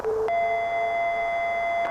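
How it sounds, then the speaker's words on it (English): Electronic tones from a Godzilla analog horror video game: a short low beep, then a sustained higher steady tone held for over a second, with another blip at the end. The tones are clear over a faint hiss. "Lots of bleeps and bloops and beepies and beepos."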